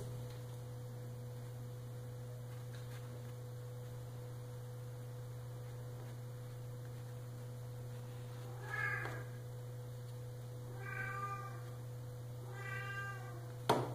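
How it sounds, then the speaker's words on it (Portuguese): A cat meows three times in the second half, drawn-out and plaintive, over a steady electrical hum with no one talking. "Esse alarme que tá tocando é a minha gata."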